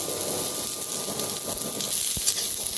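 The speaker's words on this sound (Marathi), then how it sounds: "आता ह्याच्यातच कांदा बी भाजून घेऊया" Half an onion roasting in oil on a wood-fired village stove gives a steady close sizzle and hiss, with a soft thump near the end.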